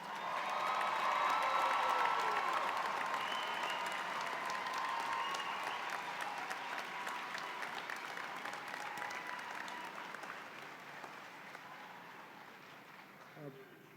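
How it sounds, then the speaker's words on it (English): A large audience at a Roosevelt University spring commencement applauds the graduates, a dense, sustained wash of clapping that slowly fades over its length, with a few faint cheers in it. "Now please join me with another round of applause for our graduates."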